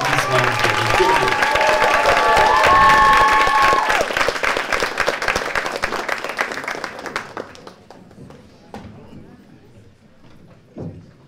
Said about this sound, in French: Un dernier applaudissement pour les terriers.